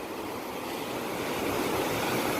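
Steady, broad rushing of water flowing at Mangalam Dam in Palakkad, continuous and fairly loud with no breaks, like a wide spillway heard from close by.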